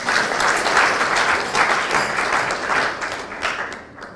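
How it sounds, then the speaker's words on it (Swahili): Crowd applause at a Gachagua rally in Butere, a dense, sustained wash of many hands clapping, loud and lively before it fades toward the end, with faint voices underneath. "Haya, mupige makofi."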